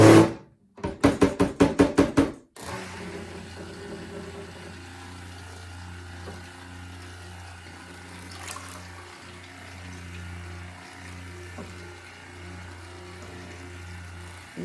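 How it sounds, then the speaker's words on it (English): Oils are stirred together with a water and lye solution for cold-process lavender white tea soap. A short burst of rapid knocking pulses opens the clip, then a steady low mechanical hum continues with faint intermittent clicks. "we're going to take our water and lye solution and we're going to blend this in"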